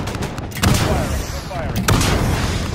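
Aircraft gunfire in the video game Modern Warfare, two loud booming bursts of cannon fire about a second apart, close and heavy over a continuous rumbling background.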